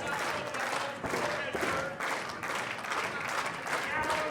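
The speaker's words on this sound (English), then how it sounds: "Crowd clapping along, ready for the action to get underway." A crowd at a local independent wrestling show before the opening match, with a steady wash of applause and a loosely rhythmic pulse of claps every half second or so, under faint background chatter.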